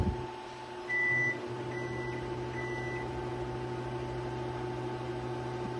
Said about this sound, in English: Microwave's still got a couple seconds to go